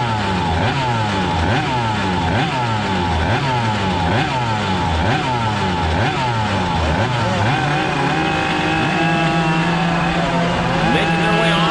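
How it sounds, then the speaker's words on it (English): Race engines of a senior Yamaha kart heat race at a state championship buzz loudly and steadily as the karts make their way onto the track, with repeated rising and falling revs from several machines. "Making their way onto the racetrack, our senior Yamaha heat race."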